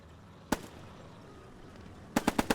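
Gunfire in the World War II shooter Squad 44: a single sharp shot, a pause, then a quick burst of four close, loud reports in even rhythm over a quiet background.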